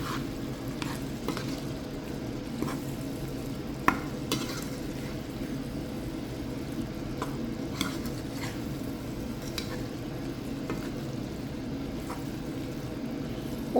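Cooked beef fries in a pan for beef varattiyathu, with a steady low sizzle under repeated scraping clicks of a spoon stirring, close and fairly quiet, without talking.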